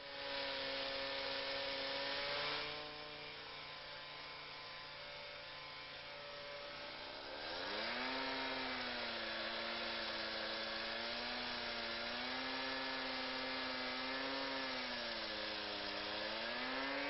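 A Husqvarna K950 power cutter cuts into a concrete block, its engine a loud, steady buzzing whine that drops in pitch as the blade bites in, then wavers under load, alone throughout.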